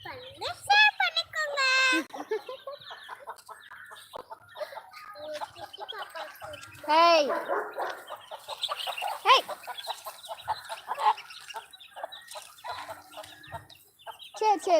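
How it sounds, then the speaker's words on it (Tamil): Chickens squawk and cluck loudly in agitated bursts, mixing with nearby talk and a voice throughout. "கோழி நாயை பார்த்ததுமே கத்துது கோழிங்க"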